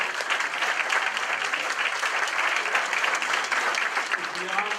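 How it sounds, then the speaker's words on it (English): Audience applause at a hospital ball for a cancer research foundation, sustained steady clapping from a large crowd filling the room for several seconds. "Let's have a round of applause."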